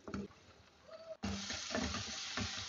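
Ground tomato masala with curry leaves sizzling in a pan as mutton curry cooks, a quieter start then a sudden louder steady fry with stirring scrapes throughout.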